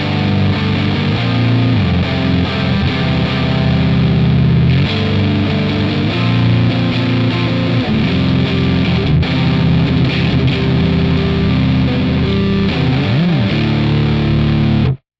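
An electric guitar with P90 pickups, on the neck pickup through a high-gain metal amp, plays sustained, thick, heavily distorted chords and riffs at high volume, with a warm, saturated tone throughout.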